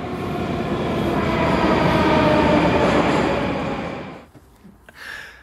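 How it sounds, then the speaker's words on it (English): A Moscow metro train roars loudly into the underground station, a dense rumbling rush with rail clatter that swells, holds, then fades abruptly as the train slows, leaving a quieter hall. "And here's the next train."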